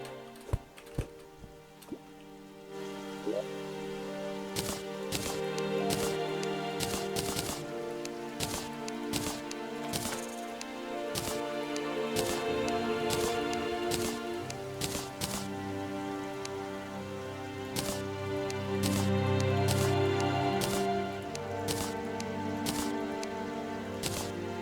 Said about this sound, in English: Just while it's raining.